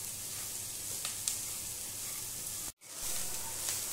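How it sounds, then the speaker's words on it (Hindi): Faint, steady sizzle of shredded cabbage frying on a high flame, broken by light stirring taps and a brief gap partway through, with no voices. "तो हमें बराबर चलाते हुए इसे सॉफ्ट होने तक भूनना है।"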